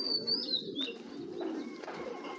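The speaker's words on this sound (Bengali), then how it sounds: "এই দেখুন 21-এর কবুতর" Pigeons coo softly in a loft of fancy breeds such as Maxi, Mili, Apsan grizzle, tiger grizzle and silver marksi: low murmuring calls rising and falling continuously with a few brief higher chirps, fairly quiet and close.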